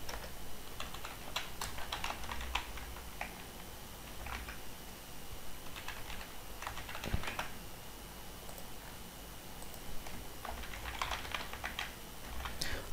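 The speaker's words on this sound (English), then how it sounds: "For example, say I'm going to create a username called Prakash with my email ID" Someone types a new username and email on a computer keyboard, producing steady rapid key clicks in bursts with brief pauses, close and alone without talk.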